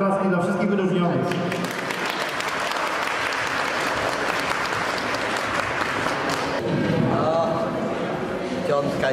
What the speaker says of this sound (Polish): Prosimy jeszcze raz o oklaski dla wszystkich wyróżnionych.